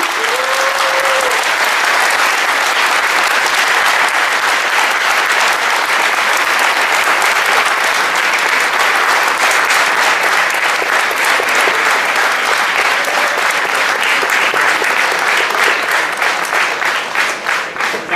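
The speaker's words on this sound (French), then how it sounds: "je voudrais, s'il vous plaît, que vous fassiez un tonnerre d'applaudissements pour le président de MZ, Azad Edarali" Thunderous applause for the president at a Paris jamaat tournament gathering, a loud sustained roar of many hands clapping, unbroken and full for the whole stretch.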